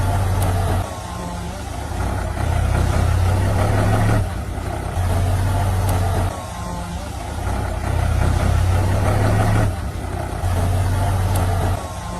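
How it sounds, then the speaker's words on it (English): Powerful tractors hauling eucalyptus trees through a forest, heavy diesel engines droning loud and steady with rising and falling revs, under a voice talking. "Powerful tractors were being brought into the forest to transport eucalyptus trees to the collection point"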